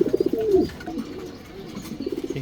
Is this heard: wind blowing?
no